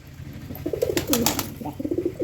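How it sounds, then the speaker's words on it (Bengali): Close domestic pigeons coo in soft, rolling bursts while feeding, a few overlapping calls over a couple of seconds with a quiet background hum. "সবগুলো পায়রার অনেক খিদে পেয়েছে আর এখনই এদেরকে খাবার দিয়ে দিয়েছি"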